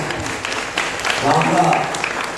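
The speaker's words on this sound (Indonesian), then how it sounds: "tepuk tangan untuk dua-duanya" Applause for the couple at a wedding anniversary celebration, a dense patter of clapping mixed with crowd noise and a voice speaking over it.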